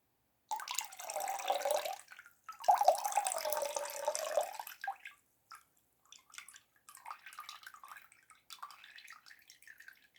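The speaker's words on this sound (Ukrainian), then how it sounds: "Тепер стараємось набрати води, ще раз промити." Tap water runs into a bowl to rinse tomato seeds, coming in two longer gushing bursts followed by shorter, quieter splashes and trickles with brief silent gaps between.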